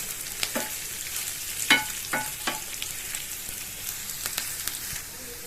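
Black pepper roasting in a dry pan gives sparse crackles and scraping stirs, with short spoon strokes scattered over a faint background hiss.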